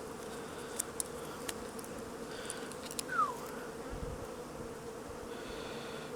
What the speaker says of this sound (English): There's a bee in there that won't leave.